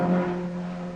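Racing cars from the 1961 Le Mans 24 Hours, works Ferraris and Triumphs, droning past on the straight after Tertre Rouge, a steady engine hum with a strong sustained tone, heard briefly.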